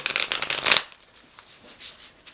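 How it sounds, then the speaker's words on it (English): Tarot cards are shuffled in a quick riffle of crisp, rapid card flutters, followed by a few faint soft taps as the deck settles. "I'll shuffle them a few times off camera because I don't want these cards to fly everywhere on the desk."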